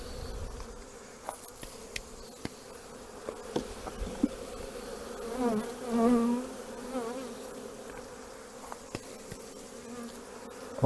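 Honeybees buzzing around nucleus hives being combined before wintering, a steady close drone with individual bees swelling louder as they pass near, under faint outdoor background.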